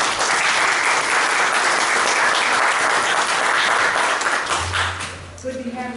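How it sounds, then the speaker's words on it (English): Warm applause from a church congregation during a Sunday service, steady clapping that fades out toward the end as a voice and a sustained tone take over. "Let's give them a clap."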